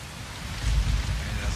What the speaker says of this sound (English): it's just been nothing but rain